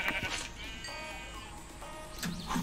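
Sheep bleating in the Minecraft video game: two clear, sustained, quavering bleats one after another, moderately near, with faint game sounds around them.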